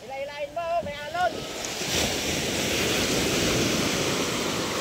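Sea waves surge and wash along a shore, a broad rushing swell with wind buffeting the microphone; brief voices sound over the water at the start before the surf takes over.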